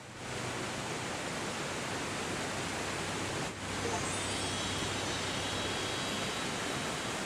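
Waterfall in the video game Europa, a loud, dense rush of falling water that runs unbroken, dipping only for a moment partway through.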